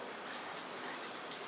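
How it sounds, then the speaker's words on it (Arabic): Heavy rain falls in Hail, a soft, steady hiss of drops at a distance, faint and unbroken, with a few slightly louder patters. "يعني زي ما انتم شايفين مطر مطر مطر."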